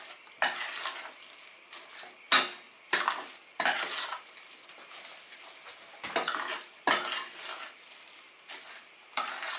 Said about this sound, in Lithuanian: Druską taip pat gerai išmaišom